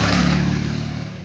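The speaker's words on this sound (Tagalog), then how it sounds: "Oy, motor!" A motorcycle engine revs loudly and close by, a steady mid-pitched roar that eases off slightly toward the end, with no voices over it.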